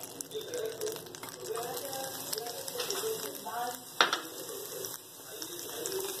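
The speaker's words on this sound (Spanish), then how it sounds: "voy a agregar mantequilla a un sartén caliente, y una vez que se deshaga o en el inter que se está deshaciendo, agrego la cebolla." Chopped onion hits melted butter in a hot pan and sizzles softly and steadily, with a few faint clinks, while a voice talks over it.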